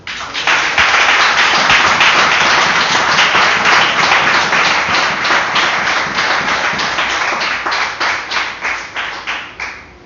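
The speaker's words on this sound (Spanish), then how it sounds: "Aplaudan al Señor." A church congregation claps loudly and steadily, many hands together in a dense, rhythmic applause that stays strong before gradually thinning toward the end, with no speech over it.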